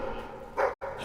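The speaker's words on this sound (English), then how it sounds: "Sounds like the dogs found something." Dogs bark in a cave setting within the Fable 3 video game, a short burst of a couple of close, loud yaps that cuts off abruptly into silence before ambient sound resumes.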